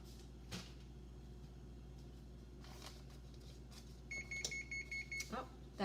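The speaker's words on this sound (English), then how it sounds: "that beeping noise means that the oven is ready" A preheated kitchen oven beeping, a short run of evenly spaced electronic beeps near the end after quiet room noise and a few soft knocks, faint and close.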